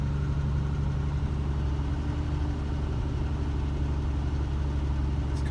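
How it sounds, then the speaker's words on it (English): A 1977 AMC Hornet with an automatic mechanical choke sits idling, its engine giving a steady, smooth low rumble that runs unbroken throughout with no voices. "This car just purrs."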